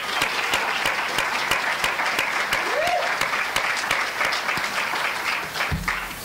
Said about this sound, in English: If we can give them one last round of applause.